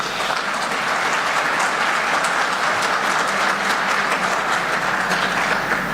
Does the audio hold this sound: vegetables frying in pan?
no